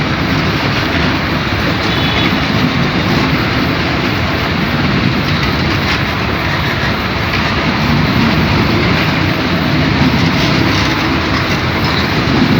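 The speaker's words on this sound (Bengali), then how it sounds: "পঞ্চগড় এক্সপ্রেস ট্রেনটি এইমাত্র বিকাল 5টায় ঢাকার উদ্দেশ্যে সান্তার থেকে রওনা হইল" The Panchagarh Express passenger train pulls out of Santahar station in Bangladesh, bound for Dhaka, with a loud, continuous close-up rumble and wheel clatter that holds steady throughout and no talking.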